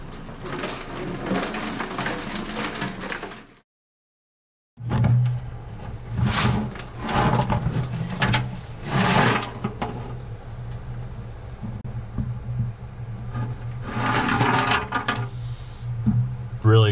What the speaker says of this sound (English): I'm gonna put some nuts and bolts in there and see if I can agitate it a little bit